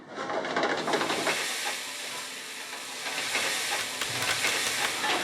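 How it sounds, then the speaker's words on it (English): Onions and mushrooms frying for steaks, a steady loud hiss and sizzle that continues without a break, close by and with no voices over it. "Just making some onions and mushrooms for the steaks"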